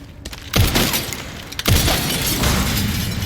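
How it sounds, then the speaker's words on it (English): Glass smashed in the Resident Evil Requiem video game, two loud shattering crashes about a second apart, each followed by tinkling debris and a lingering noisy rumble. "how about we destroy this glass?"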